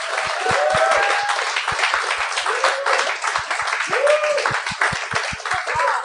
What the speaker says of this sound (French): J'aimerais ça qu'on leur donne une bonne main d'applaudissements.